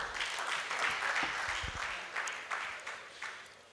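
An audience at a law week town hall meeting in Lagos applauds, a soft, steady patter of clapping heard from a distance, with a few louder claps standing out near the end.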